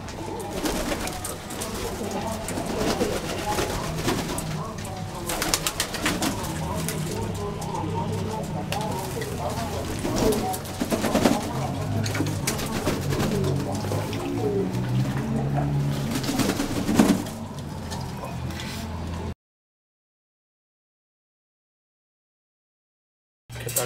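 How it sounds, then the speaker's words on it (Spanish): Racing pigeons in a loft coo in overlapping, repeated calls against busy, steady background noise for about twenty seconds before the sound cuts to silence. "pues vamos a darle un rato a las palomas."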